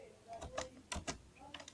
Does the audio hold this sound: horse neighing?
no